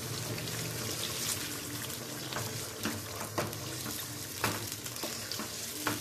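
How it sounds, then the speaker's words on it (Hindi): Chicken with yogurt cooking in a karahi on high flame, a steady wet sizzle with scattered crackles and spits, close and moderately quiet, continuous with no talk. "अब हम इसको हाई फ्लेम में पकाएंगे ताकि जो दही का पानी है वो भी खुश्क हो जाए।"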